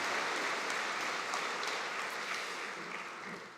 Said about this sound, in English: let's give a big round of applause to the MacEwan University Jazz Band